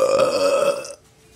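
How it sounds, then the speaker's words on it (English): One long, loud, voiced burp from a movie character rumbles close for nearly a second, then cuts off to near silence. "I can burp."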